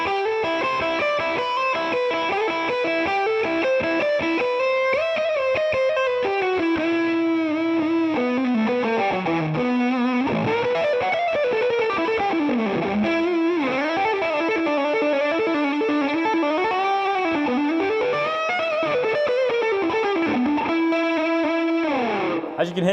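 A James Tyler Studio Elite HD electric guitar is shredded through heavy distortion with a mid-range boost, playing fast sustained runs, bends and sliding lines that continue loud and unbroken for the whole stretch.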